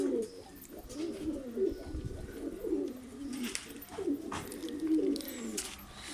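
Several pigeons, including homing pigeons, coo in low, throaty rolling phrases in a coop, overlapping steadily throughout, fairly close, with faint rustling and bright background noise.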